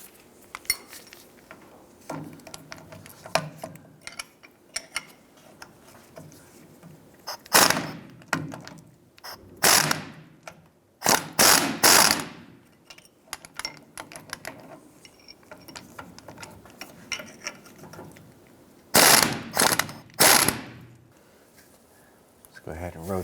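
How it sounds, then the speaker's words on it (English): A ratchet loosens the 14mm bolts and nuts on the rear driveshaft flange of a 2000-2006 Toyota Tundra, giving irregular bursts of clicking and metallic clanks between quieter handling noises. "The tail end of the drive shaft, we have a flange here that is held on by 4 14mm bolts and nuts. Let's go ahead and loosen those"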